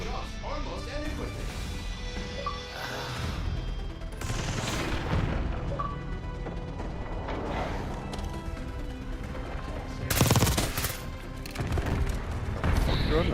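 Video game gunfire crackles in repeated bursts and heavy impacts, loudest near the end, mixed with constant talking and a busy game soundtrack.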